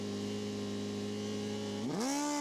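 Suzuki GSX-R 1000 drag racing motorcycles, a 2002 Suzuki among them, holding a steady droning engine note, then revving sharply upward near the end, heard alone without talk.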